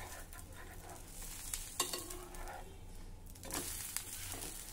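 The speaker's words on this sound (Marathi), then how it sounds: "आता यावर आपण तेल घालूया आणि हळूच आता ह्याची आपण बाजू पलटून घेऊ" Yedani, a rice pancake, sizzles steadily in oil in a pan as it is flipped, with a few sharp scraping clatters from the turner standing out above the constant frying hiss.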